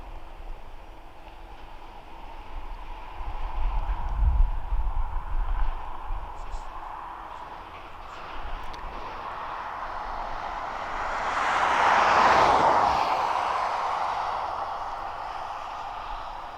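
A jet aircraft at East Midlands Airport rumbles in the distance, then its engine roar swells into a broad, loud pass that peaks and slowly fades, above steady background hum.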